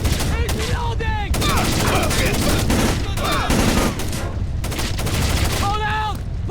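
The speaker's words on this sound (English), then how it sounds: "He's taking shots!" Gunfire in the stealth game Splinter Cell: Chaos Theory: loud, dense bursts of rapid automatic shots rattling almost continuously, with shouting voices over the barrage.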